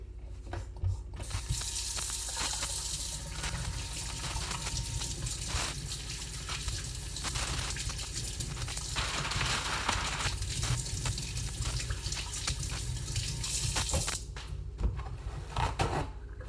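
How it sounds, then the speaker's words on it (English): Hands being washed with soap under a running kitchen tap, a steady hiss of flowing water with small splashes and shifts, close and continuous for about sixteen seconds. "our first step with any recipe is to wash our hands with soap and water for 20 seconds"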